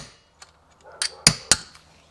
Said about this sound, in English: I can get behind it with a chisel and get it lip to come up